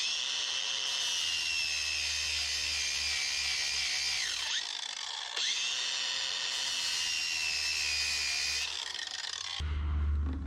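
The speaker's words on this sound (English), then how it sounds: "I'm just going to grind this JB weld off, make it flat there" A power grinder whines steadily against a Subaru turbo housing, grinding hardened JB Weld off the metal; the high tone runs continuously, dips briefly twice as the tool lifts or changes pressure, and ends with a rough low thud.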